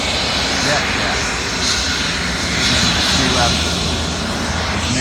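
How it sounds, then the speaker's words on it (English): A jet airplane passes overhead with a loud, steady engine roar that fills the whole span, swelling slightly midway, while someone talks under it. "We'll wait for this plane to go through."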